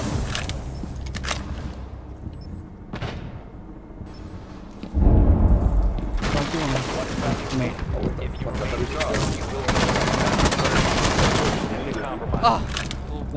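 Gunfire in Rainbow Six Siege, a 1 vs 4 clutch in a custom match: scattered shots early, then dense rapid bursts of rifle fire that build and stay loud, with a player talking over it.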